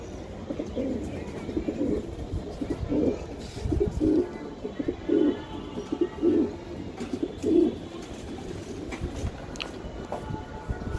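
Racing pigeons coo in a steady run of rhythmic, throaty bursts, about one every second, over a soft constant background hiss and low rumble.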